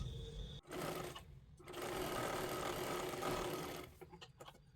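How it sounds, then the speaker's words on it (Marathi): A sewing machine runs stitches along the folded edge of blouse fabric, a close whirring drone in two runs, a short burst then a longer steady stretch, ending with light handling clicks. "सर्वात आधी ते कडेला एकदम शिलाई मारून घ्यायची आहे पूर्ण व्यवस्थित"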